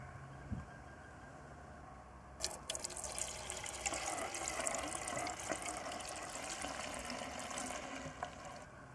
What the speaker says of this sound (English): Let's get some fuel in.